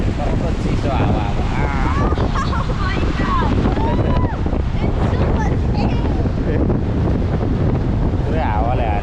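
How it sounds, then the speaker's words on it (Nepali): Cold wind gusts hard across the microphone at a dam, a loud constant rumbling buffet throughout while people talk and exclaim in the background. "ए कस्तो चिसो हावा"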